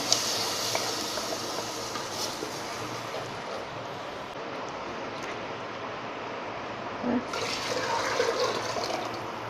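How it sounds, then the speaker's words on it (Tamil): Water poured into a cooking pot while making spinach rasam with manathakkali (black nightshade) greens, tomato and curry leaves: a steady, continuous rushing pour throughout, moderately loud, with a brief louder splash near the end and no talking. "தண்ணி ஊற்றிக்கிங்க"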